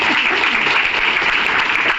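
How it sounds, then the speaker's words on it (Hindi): An audience gives a loud, steady round of applause, with dense clapping throughout the short stretch and no voices over it. "चलिए एक जोरदार ताली होनी चाहिए।"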